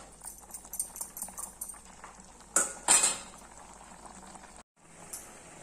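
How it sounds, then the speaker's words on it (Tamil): Sambar boiling in a pot, a soft bubbling simmer with a few sharp clinks of a utensil against the pot partway through and a short silent gap near the end. "சாம்பார் நல்லா கொதிச்சிச்சு பாருங்க."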